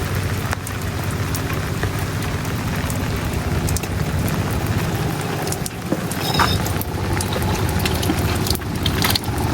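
Steady rain patters down around an outdoor village cooking spot where koi fish patudi is being prepared in taro leaves, a dense continuous hiss filling the scene with a few brief sharper knocks and no talk.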